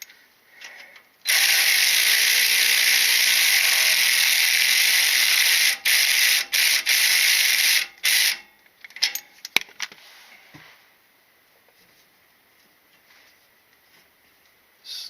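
A powered ratchet tool runs a nut down on a V-band exhaust clamp in a loud, continuous high whirr for several seconds. It stops and restarts in short bursts, then ends in light metallic clinks and handling.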